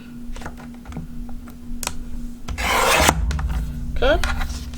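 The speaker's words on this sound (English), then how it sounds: "I'm gonna cut again another one at 1 7/8." A single sheet of letter-size paper is cut into a strip with a paper trimmer, a short scraping slide near at hand following a few light taps and handling sounds.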